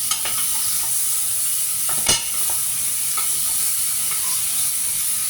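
Pork hisses and sizzles steadily in a hot pan, with a few sharp pops and utensil clinks over the even frying noise, close by and with no one talking.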